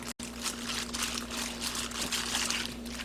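LA galbi marinade poured generously over 2 kg of beef short ribs, a continuous close splashing pour with a low steady hum underneath, heard alone.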